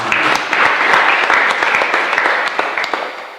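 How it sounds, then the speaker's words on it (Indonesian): A church congregation applauds together, loud dense clapping that holds steady before thinning slightly at the end, with no voices over it. "Kita tepuk tangan."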